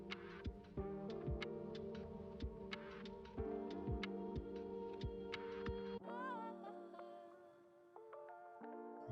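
A Soul Nova Unlimited 4.0 tattoo machine runs with a steady electric hum and buzz, interrupted by soft rhythmic thumps and changing in pitch partway through, quiet and close.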